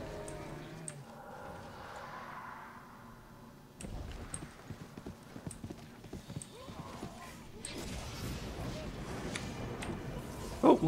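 Horse hooves clip-clopping in the online fantasy game RIFT, a soft rhythmic trot under faint game ambience, growing busier and louder toward the end.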